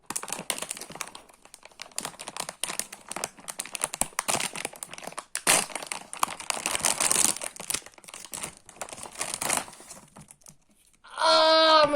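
Packaging around a Stitch toy crinkles and crackles in irregular bursts during unboxing, close and fairly loud with sharp rustling spikes, then a short voice breaks in at the end.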